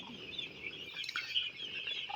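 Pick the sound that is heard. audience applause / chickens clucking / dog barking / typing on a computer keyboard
chickens clucking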